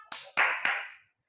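Students clap a chant rhythm in a classroom focus routine, three sharp, close claps spaced evenly a beat apart, with no voices over them.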